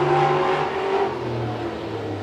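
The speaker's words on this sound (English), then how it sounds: "those really are thunderous modifieds" Thunderous modified race cars roar around a track on the final lap of a heat race, a loud continuous engine drone with rising and falling revs, close and without talk.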